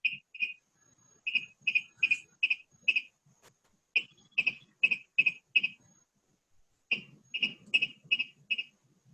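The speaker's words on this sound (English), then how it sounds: "the Virginia rail makes that riddick sound" Virginia rail calling in a marsh at a national wildlife refuge, a cricket-like series of sharp, rapid ticking notes in three bursts separated by short pauses, clear and fairly close.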